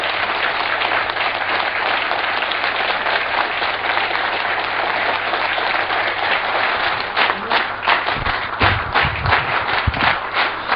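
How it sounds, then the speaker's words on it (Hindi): Loud, sustained applause from a seated audience welcoming a trainer onto the stage at a training session, dense clapping that fills the room, with a few stray thumps and voices near the end. "जोरदार तालियों के बीच में स्वागत करते हैं चेतन सर का"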